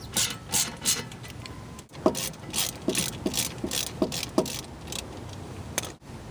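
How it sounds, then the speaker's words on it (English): A ratchet on a 7mm hex socket loosens the rear caliper bolts of a BMW E36 during a front rotor job, making a series of close, crisp clicking bursts with short pauses between strokes. "we're going to go ahead and use a 7mm hex socket to loosen up the caliper bolts at the back"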